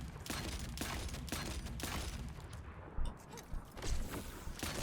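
Gunfire in The First Descendant video game, a rapid string of loud shots over a dense mechanical background, with a brief lull in the middle before firing resumes.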